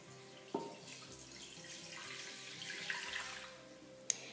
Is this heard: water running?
yes